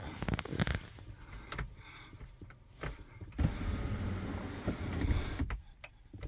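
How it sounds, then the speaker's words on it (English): Power moonroof of a 2022 Chrysler Pacifica tilting up, with a faint whirring motor hum running for a few seconds among soft interior clicks and rustles, recorded close inside the car. "one press of this center tilt button is what I just pressed. And that brings it up like so."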